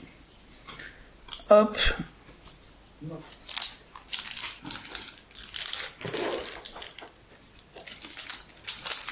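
Scissors snip and crinkle through the foil wrapper of a PRB01 trading card booster pack, with rustling and crunchy cuts in short bursts while a person talks over them.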